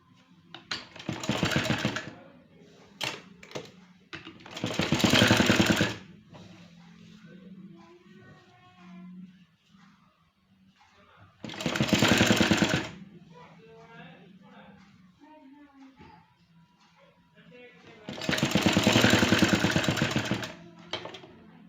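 An electric sewing machine stitches around the boat-neck opening of a kurti in four loud, fast whirring bursts, with someone talking quietly in the gaps between runs.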